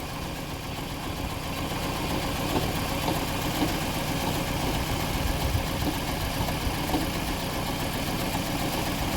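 Toyota Estima Hybrid with a 2AZ-FXE engine idling under a multi-cylinder misfire, a steady close-up engine rumble with a faintly uneven pulse throughout and no talking.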